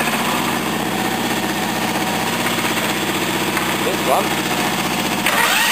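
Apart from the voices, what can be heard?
small petrol engine running, Briggs or Honda OHV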